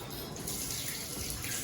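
A spoon is rinsed under running kitchen tap water, a steady close splashing hiss with no talk.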